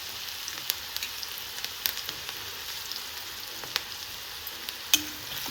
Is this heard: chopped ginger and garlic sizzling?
yes